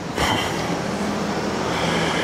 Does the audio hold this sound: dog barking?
no